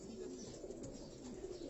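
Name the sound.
Kamgar breed pigeons cooing on Karachi rooftop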